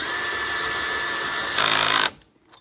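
A power tool running steadily as knuckle bolts are snugged down on a 2007-2021 Toyota Tundra front suspension, a loud continuous whine that strains briefly under load before cutting off, leaving a faint tail.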